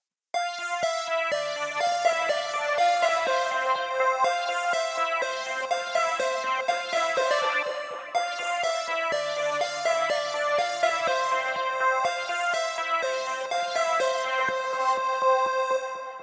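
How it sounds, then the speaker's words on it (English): Stacked synth part layered through five different synthesizers, sustained bright chords with rippling arpeggiated notes, steady and full, played alone. "playing it through 5 different synths to create a stack"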